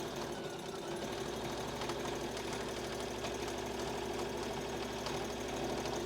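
A sewing machine stitches a seam on a Japanese knot bag, giving a loud, continuous motor drone with a dense, rapid needle rattle that holds steady throughout.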